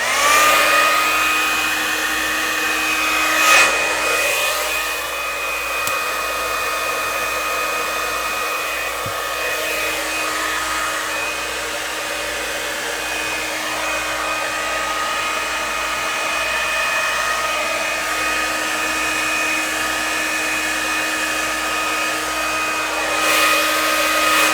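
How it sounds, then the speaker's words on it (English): A hair dryer blows steadily on a Dutch pour acrylic painting, a loud, continuous whirring roar close to the listener that barely changes across the whole stretch. "we're going to take our hair dryer"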